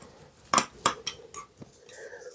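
A spoon stirring herring forshmak dressing of salt, sugar and apple vinegar in a dish, with a few sharp metallic clinks against the bowl, close and fairly quiet.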